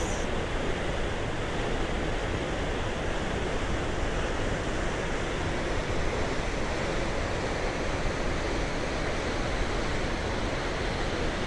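Sunwapta Falls in Jasper, with a constant, dense roar of rushing water that stays loud and even throughout and has no voices over it.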